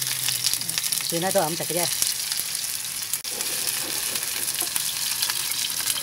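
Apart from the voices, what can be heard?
pork dices frying in a pan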